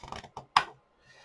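A thick page of a colouring book being handled, giving a few quick crisp rustles and a sharper snap of paper, close and faint, followed by near silence.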